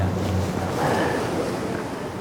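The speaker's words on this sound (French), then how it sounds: "il faut braver les vagues du Pacifique 1h30 durant" Pacific Ocean waves wash steadily around a boat at sea, making a continuous rushing surge mixed with wind noise.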